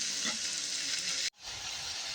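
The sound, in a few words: frozen meat sautéing with mastic, cardamom, onion, tomato, carrot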